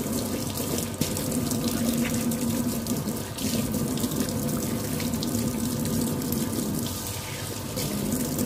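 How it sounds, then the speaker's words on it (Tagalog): A household faucet runs steadily at full flow to clear hot water from the pipe, a continuous close splashing hiss into the sink, even and uninterrupted, with no voices. "Hayaan natin mabukas yung tubig para matanggal lahat ng init sa tubo"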